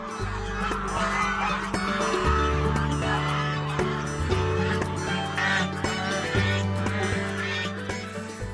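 A flock of geese raised for meat on an open European pasture farm, honking loudly and continuously in dense overlapping calls close by, with no pauses.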